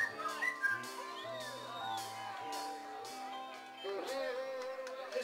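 Several people whistle together in a loose, wavering melody, with some crowd noise and shouts mixed in.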